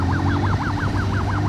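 An ambulance siren wails loud and close, a steady rising-and-falling sweep repeating about every fifth of a second over a low engine drone, with no voices.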